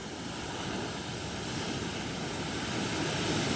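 Storm-driven ocean waves break near a beachside resort, a loud continuous roar of surf mixed with wind buffeting the microphone, close and unbroken, with no voices.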